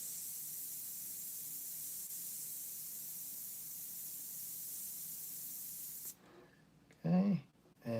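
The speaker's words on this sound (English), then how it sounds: "I will be airbrushing over that." An airbrush sprays India ink onto Bristol board in a steady, close hiss lasting about six seconds, then cuts out as a voice briefly speaks.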